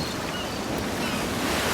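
Broadband surf washing steadily along the Red Sea shore, a continuous close wash of breaking waves with wind noise over the microphone and no voices.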